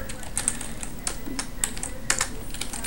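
Keys tapped on a computer keyboard in an irregular sequence of light clicks, close but fairly soft over a steady background hiss.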